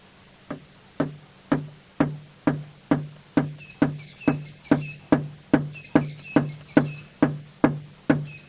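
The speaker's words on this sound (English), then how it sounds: "I haven't seen these red-crested korhaans displaying recently at all, but that sound, often when they call like that" A red-crested korhaan calls in a long, steady series of sharp, knocking clicks, evenly spaced at roughly two per second and fairly loud, with faint background birdsong during an early-morning safari drive.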